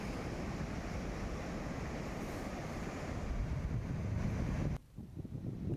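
Water from the overflowing Parvati dam in Dholpur, Rajasthan, swollen by heavy rain, pours in a continuous loud rushing roar with wind noise, cutting off abruptly near the end.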